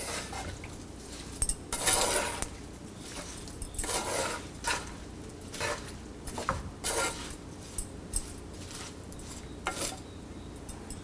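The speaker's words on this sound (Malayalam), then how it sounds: "കട്ട് ചെയ്ത് വെച്ചിരിക്കുന്ന പടവലങ്ങയും വെള്ളത്തിൽ കുതിർത്ത് വെച്ചിരിക്കുന്ന കുടംപുളിയും ആവശ്യത്തിന് ഉപ്പും ആഡ് ചെയ്ത് നന്നായിട്ട് മിക്സ് ചെയ്യുക." Snake gourd pieces, soaked kudampuli and salt being stirred together in a pan, with soft scraping and clinking of a utensil against the metal in irregular bursts, close and fairly quiet, no talking.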